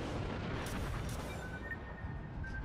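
Torpedo explosions and naval gunfire in the World of Warships battle game, a continuous heavy rumbling roar of booms close and loud throughout.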